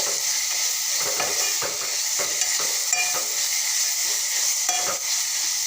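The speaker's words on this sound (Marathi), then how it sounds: "भाजीला अधूनमधून छान मस्त असं परतत राहायचं कारण आपली भाजी करपली जात नाही" Amaranth leaf bhaji sizzles and hisses steadily in a pan, broken by regular scraping stirs and occasional light clinks of the utensil against metal, with no talking.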